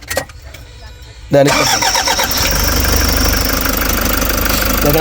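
A Toyota Hiace van's 1KD diesel engine cranks and catches, then settles into a loud, steady diesel idle with a rough mechanical clatter.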